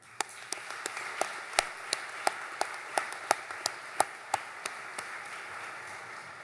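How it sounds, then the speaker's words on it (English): Audience members at a naval training unit graduation ceremony clap in a slow, steady unison beat, each crisp clap ringing out at even intervals over a quiet room, growing slightly stronger before fading. "So I'd like a round of applause for the staff of Yorktown."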